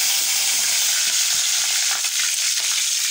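Green chillies sizzle in hot oil with cumin seeds, a steady close hiss of frying crackle that runs unbroken throughout with faint scattered pops.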